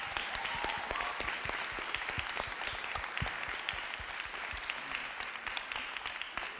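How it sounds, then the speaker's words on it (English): Church congregation applauding, a dense, even patter of many hands clapping throughout, fairly soft and distant with little talk over it. "So we give Jaden a round of applause as well."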